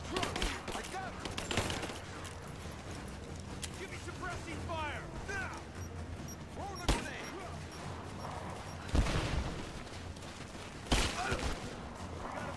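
Bursts of gunfire from a Rise of the Tomb Raider firefight, sharp shots and short volleys scattered through the scene amid voices calling out over continuous game sound.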